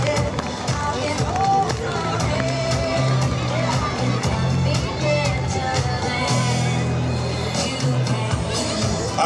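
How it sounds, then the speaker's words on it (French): Spectators at a youth running race in Tourcoing clap and cheer continuously as young finishers come in, a dense outdoor crowd din with scattered shouts and speech. "faites du bruit, applaudissements pour les garçons en"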